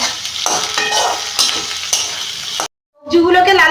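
Carrot, capsicum and tomato sizzle loudly in a pan for vegetarian chilli paneer, with repeated stirring scrapes, then a sudden brief silence and a different tonal sound.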